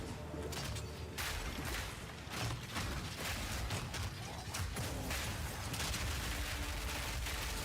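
Mortar Totem firing in the video game Path of Exile 2: a continuous barrage of overlapping thumps and blasts with mechanical clatter, loud and steady throughout.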